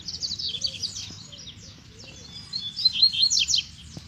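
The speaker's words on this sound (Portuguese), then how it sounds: "A fêmea tá piando." Female double-collared seedeaters chirp in quick high-pitched bursts, clusters of short tweets coming and going over faint background noise, outdoors in the brush.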